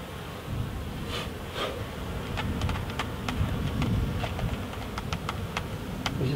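Honey bees buzzing close by during the uniting of two hives, a steady low drone with scattered sharp clicks and taps of hive frames over it.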